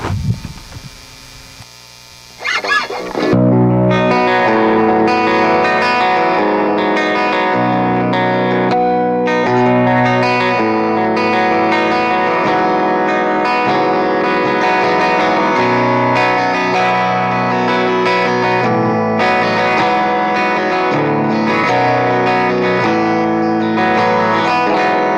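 An electric guitar amplifier, miked with a Shure SM57, plays a sustained distorted chordal passage with reverb and a chorus-like shimmer, loud and continuous after a brief low-level hum at the start.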